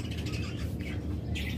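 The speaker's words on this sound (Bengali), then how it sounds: "দুইটাই কিন্তু রিং লাভবার্ড, এটা থেকে একদম টপ কোয়ালিটির পাখি বাচ্চা পাবেন।" Pair of ring-necked lovebirds calling in a bird sale setting, with a few brief high chirps over a steady low background hum.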